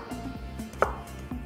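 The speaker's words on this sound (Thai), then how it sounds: "หั่นแครอทเป็นแท่งๆนะครับ" Knife chopping a carrot into sticks on a cutting board, a few soft, close taps over a low background hum, with no talk.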